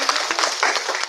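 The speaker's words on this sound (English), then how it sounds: "Clapping." An audience claps in a quick burst of dense, close applause during a psychotherapy talk, bright and fairly loud, lasting about a second.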